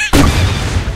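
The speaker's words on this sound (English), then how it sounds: "He's got a grenade launcher." A grenade launcher fires in the online ape combat game Apewar, a sudden loud boom after a brief quiet start, followed by a sustained rumbling blast tail that fills the rest of the moment.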